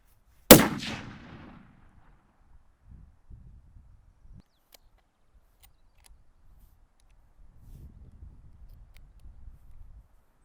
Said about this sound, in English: so Jimmy shot 2 or 3 rounds to just get warmed up himself